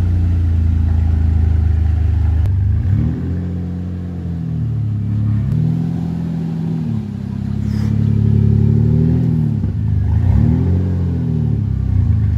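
A BMW 330ci being modified for drifting revs loudly with no exhaust fitted, the raw engine note rising and falling through several sharp blips over a steady idle, close and alone.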